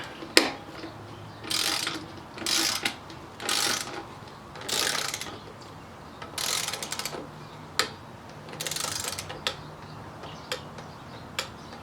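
A torque wrench tightens the Fuel Moto Stage 1 air filter on a 2016 Harley-Davidson Road Glide Ultra, giving repeated close, bursty ratcheting clicks in uneven strokes with short pauses, ending in a few sharp ticks.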